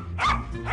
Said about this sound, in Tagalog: Aso! Aso! Ang aso!